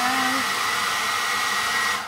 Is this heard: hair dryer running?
yes